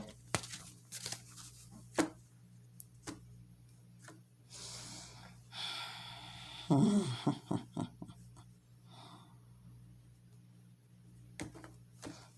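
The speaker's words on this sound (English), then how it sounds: "let's just do another quick shuffle" Tarot cards are shuffled close up in a quiet room, with soft riffles, taps and papery rustling coming in short bursts.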